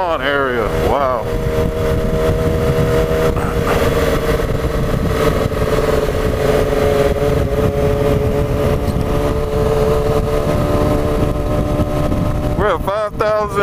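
Engines and motorcycles drone steadily in stop-and-go traffic on the road to Lake Arrowhead, a near, continuous hum with a passing whine at the start and end, and voices in the cabin.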